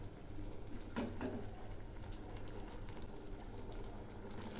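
Ridge gourd and poppy seed curry with green chillies simmers in a pan while being stirred, giving a steady close bubbling and sizzling bed with a couple of brief scrapes of the spoon early on; no voices.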